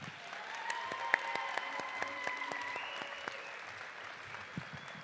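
Steady applause from a crowd at a spring commencement ceremony for a high school equivalency and adult education program, honoring a graduation speaker; sharp claps form a sustained, moderately distant wash over a faint tonal background.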